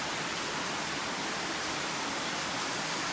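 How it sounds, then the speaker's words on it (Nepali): Heavy rain pouring down in Darjeeling during a wet Sunday, a dense, unbroken hiss of downpour filling the whole stretch at a constant loud level, with no voices. "पानी चाहिँ हेर्नुहोस् यस्तो डरलाग्दो आउँदैछ है"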